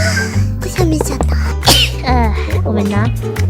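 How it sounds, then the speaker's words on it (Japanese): A single sharp sneeze bursts out in the middle of close, animated speech from a speaker. "くしゃみしちゃった"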